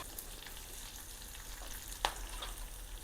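Garlic and curry leaves frying in oil in a pan for kadhi, a steady soft sizzle with a brief sharp crackle burst near the middle, close and without talk.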